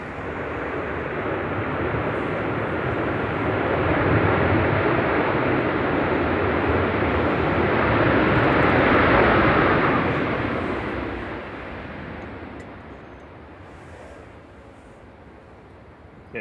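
An Airbus A380 going around at a gusty Manchester Airport and passing overhead, a loud broad jet roar that swells, holds, then slowly fades as it moves away.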